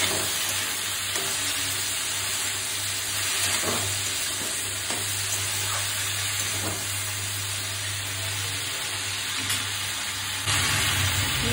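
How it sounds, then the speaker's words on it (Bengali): Beans and radish fry in a little oil with salt and turmeric under a covered pan, a steady, close sizzling hiss with occasional soft stirring clicks, and no voices. "এটাকে একটু ঢাকা দিয়ে দিয়ে ভাজছি, কারণ তেল তো অল্প আছে।"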